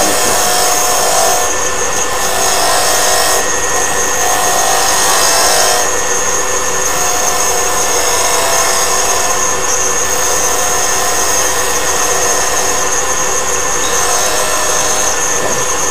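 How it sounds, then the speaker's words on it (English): A wood lathe spinning at 3,000 RPM while a spindle gouge cuts the turning wood, a steady loud whirring hum with a continuous cutting hiss throughout, no voices. "I'm going to go ahead and just bump the lathe speed up."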